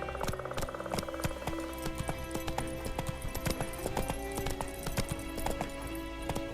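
Roach the horse galloping in The Witcher 3, a loud steady rhythm of hoofbeats pounding continuously, set against game music and ambience.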